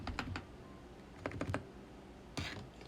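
Enter key on an MSI Vigor GK20 gaming keyboard pressed several times: close, crisp clacks in small clusters with a louder final press, alone in a quiet room.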